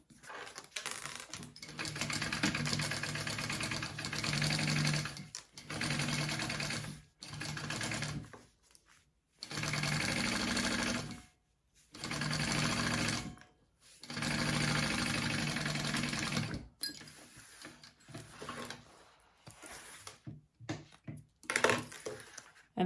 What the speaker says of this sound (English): I'm gonna sew that at my seam allowance